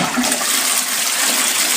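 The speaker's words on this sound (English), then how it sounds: "flush it down." A toilet flushes in an off-grid setting, a loud, steady rush of water that carries on evenly for nearly two seconds with no voices.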